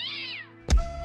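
Cat meow in a Brazilian political campaign ad, a single loud close meow rising after a stretch of music or background tones, with no talking.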